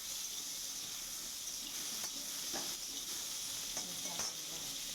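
Yellow bell peppers frying lightly in hot oil for a mushroom recipe, a steady close sizzle with a few sharp crackles and spatters, no talking.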